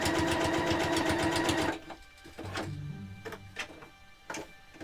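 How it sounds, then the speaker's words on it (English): A sewing machine stitches fabric in a fast, steady, loud whir for nearly two seconds, then stops, leaving scattered clicks and small handling noises close by. "That's why I machine sew rather than hand sew, because I can go way faster."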